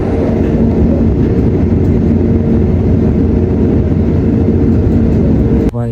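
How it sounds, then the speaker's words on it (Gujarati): A very long freight train loaded with timber rolls steadily through a railway station in Germany, a loud, continuous low rumble and rattle of wagons with no break across the whole stretch. "આવી રીતના કંઈક લાકડા જાય છે ટ્રેનમાં ભરાઈને"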